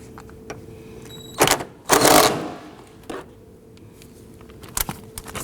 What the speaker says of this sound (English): let's go ahead and tighten that down